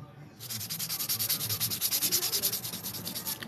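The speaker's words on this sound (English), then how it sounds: "So now I'm beveling out the inside." A nail file rubs rapidly back and forth to bevel the inside of a sculpted XXL stiletto nail, making a close, fast, even scratchy rasp that starts abruptly and continues alone.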